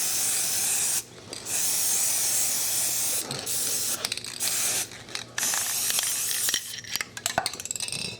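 Spray can of Rust-Oleum NeverWet top coat hisses in long, loud bursts with brief pauses between, close by, with light rattling and handling noises in the gaps.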